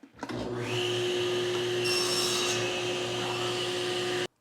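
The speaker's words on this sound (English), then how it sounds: "Now I can just whittle away the waste with my table saw blade." A table saw spins up and cuts waste from a piece of wood for a display shelf, a loud, steady close-up whine and roar with a brief rise as the blade bites, then an abrupt stop.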